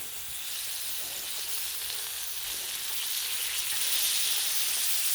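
A turkey breast tenderloin sears on a Blackstone griddle set just above low, about medium heat, giving a steady, close, crackling sizzle that holds without a break and swells slightly toward the end, with no talking.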